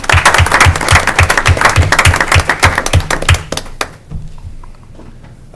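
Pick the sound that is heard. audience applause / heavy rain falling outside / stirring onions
audience applause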